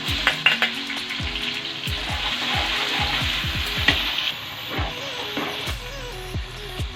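Garlic goes into a pan of golden fried onions for beef pulao, giving a loud, close sizzle under repeated clattering scrapes and knocks of a spoon stirring against the pan. The sizzling settles after a few seconds.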